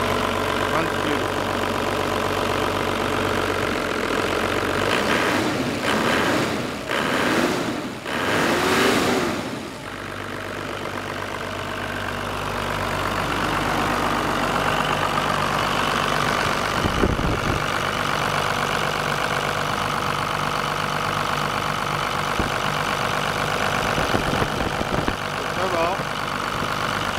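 A 1989 Toyota Land Cruiser HJ61 turbo diesel engine idles steadily and loudly up close, with a brief rise in revs early on and some background handling noise.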